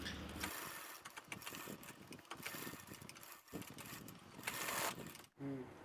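A sewing machine stitching a Pakistani salwar, a faint, steady mechanical whir with rapid needle clatter running for several seconds before pausing briefly and starting again, heard with no voices.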